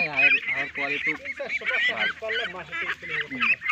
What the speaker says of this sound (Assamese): এইবিলাক হাঁহৰ পোৱালি